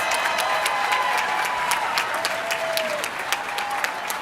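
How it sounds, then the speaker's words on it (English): At a college commencement ceremony, the crowd breaks into sustained applause for the graduates' grandparents and family, an even wash of many hands clapping at middle distance with faint cheering mixed in. "Let's give them a round of applause."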